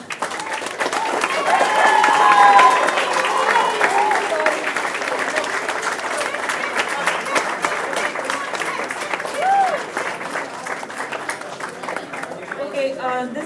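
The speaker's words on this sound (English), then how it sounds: "And a loud round of applause." An audience at a closing ceremony and prize distribution breaks into loud, sustained clapping that swells and continues throughout, with cheers and voices mixed in.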